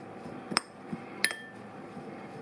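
A couple of sharp metallic clinks of a utensil against a bowl while gremolata ingredients are mixed, quiet and sparse over a faint background.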